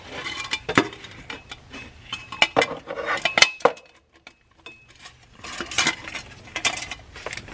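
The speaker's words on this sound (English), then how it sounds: "I'm going to take both of my clamps, put them up here like this." Metal hose clamps clink and rattle as they are handled and fitted onto an intercooler pipe boot on a Dodge Ram 2500 third-generation Cummins truck, producing close, irregular jingling bursts with a brief pause midway.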